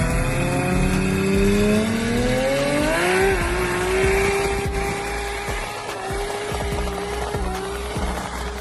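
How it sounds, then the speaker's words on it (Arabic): A modified Nissan S13 running full slick tires revs hard and loud, the engine note climbing and holding while tires spin and squeal, continuous and close throughout. "اللي عدلوا على هذه الاس 13 اللي ما ادري كم هي كمية الأحصنة اللي وصلوها عشان يخلوا السيارة تحفر بكفرات فول سليك"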